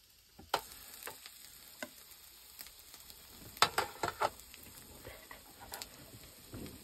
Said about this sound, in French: Le fromage est en train de bouillir.